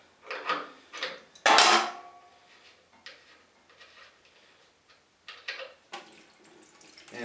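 Watery oil thinned with gas draining from a lawn tractor engine's oil reservoir bolt, intermittent splashing and trickling with one louder gush, fairly close and without talk.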